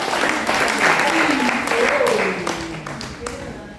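Audience applause at a youth night of gift exchange for Tegeta deanery, a sustained wash of clapping with voices mixed in, steady then tapering slightly toward the end.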